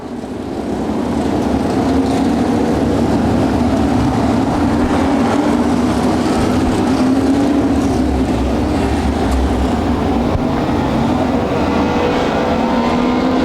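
USA modified race cars rumble around the O'Reilly Raceway Park oval in Indianapolis behind a pace truck, a loud, steady, continuous engine drone holding for the whole stretch with no break.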